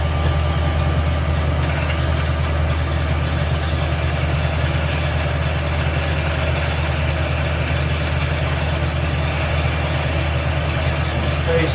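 Steady low engine rumble of a machine driving forward in second gear, a constant loud drone with a slight change near the start, no voices.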